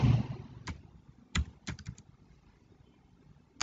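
Keys tapped on a computer keyboard while entering a web search, a handful of sharp close clicks in a short uneven burst and then a lone final keystroke after a pause, in a quiet room.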